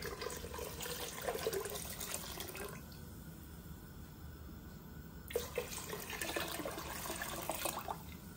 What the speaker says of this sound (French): Je vais rajouter des pois chiches, je vais rajouter l'eau.